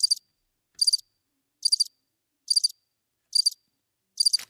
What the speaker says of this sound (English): I think I'm just hearing crickets.